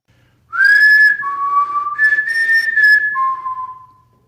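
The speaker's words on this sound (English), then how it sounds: "this is one of the best disembodied whistles I've ever heard" Clear melodic whistle, captured in a paranormal recording, rising and falling through a few sustained pitched notes over about four seconds, loud and isolated against near silence.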